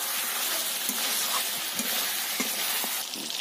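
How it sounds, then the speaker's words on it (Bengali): Chicken do pyaza sizzling steadily in oil in an open pan, with a spoon stirring and scraping through the meat every second or so; close, continuous frying hiss with no voices. "আবার একবার ঢাকা খুলে নেড়ে দিতে হবে।"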